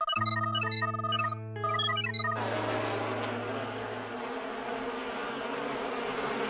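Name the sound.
bees buzzing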